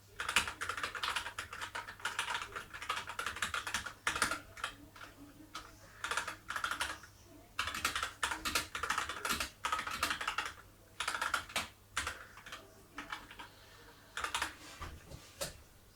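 Rapid clicky keystrokes on a Rantopad MXX mechanical keyboard with red switches patter in bursts with short pauses, close and fairly crisp, no one talking.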